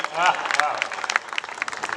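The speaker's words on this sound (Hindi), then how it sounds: "जोरदार ताली बजाओ" A short burst of lively crowd applause and clapping, dense and close, with voices mixed into the noise, at a Hindi comic poetry gathering at a Jain temple in Jaipur.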